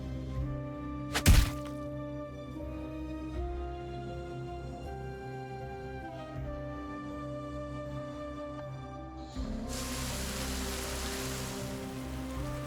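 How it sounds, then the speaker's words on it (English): Rain falling in the video game Nikke: Goddess of Victory, a steady patter of drops on surfaces with a sharp knock early on and a louder, denser downpour swelling near the end. "It's raining. Now I'm all wet."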